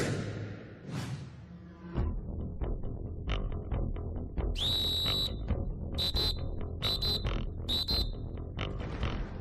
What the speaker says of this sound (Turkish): İlk yardım dersinden düdük sesiyle çıkıyoruz.